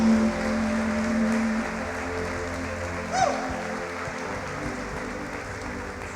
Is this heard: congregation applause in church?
yes